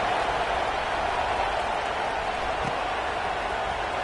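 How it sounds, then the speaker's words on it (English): Stadium crowd at a USC football game during a kickoff, a steady, loud wash of cheering and applause filling the space without pause. "this crowd is feeling themselves after that last drive"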